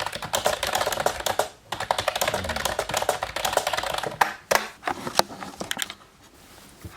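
Rapid, close typing on a computer keyboard while drafting a novel, dense bursts of clicking keystrokes with brief pauses and a few heavier key taps, fading to quieter room tone at the end.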